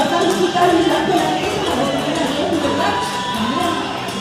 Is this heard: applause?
yes